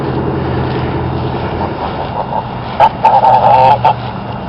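Ducks on a downtown Baton Rouge waterfront give a short run of loud, harsh honking calls near the end, close by over steady outdoor background noise, with no talking.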